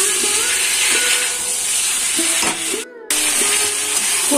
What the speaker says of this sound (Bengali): এবার আমি এর মধ্যে দিয়ে দিব মটরশুঁটি। এবার আমি আরো কিছুক্ষণের জন্য ভালো করে কষিয়ে নেব।